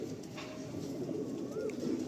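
Madrasi breeder pigeons coo steadily at close range, a soft continuous murmur of several birds with no speech over it.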